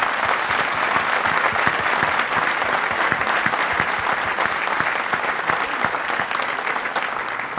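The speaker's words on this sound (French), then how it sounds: "On peut les applaudir." At a new mayor's speech in Allauch, the crowd gives sustained, lively applause, a thick, even patter of many hands that holds steady and eases slightly at the end.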